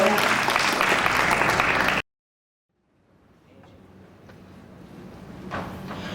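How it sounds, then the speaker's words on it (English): An audience at a studio backlot stunt show claps loudly for about two seconds before it cuts off abruptly, followed by silence and then a low, rising room rumble. "Another round of applause for our man of steel."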